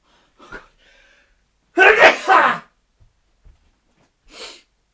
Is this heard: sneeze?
yes